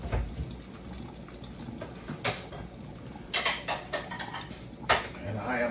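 Excess cooking oil is poured from a pan into a bowl amid clinking dishes and cutlery, with splashing and scraping clatters in bursts over a steady kitchen background.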